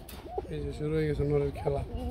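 Pigeons coo in low, throaty, repeated calls close by, several overlapping, with faint voices in the background.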